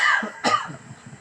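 A single short, harsh cough bursts out, close by, followed by a faint trailing breathy sound.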